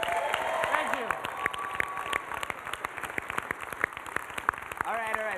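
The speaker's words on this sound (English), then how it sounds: "Let's get one more round of applause for Mario Cantone." Audience applause at an awards ceremony, a steady patter of clapping spread across the whole stretch, with a voice speaking over it at the start and again near the end.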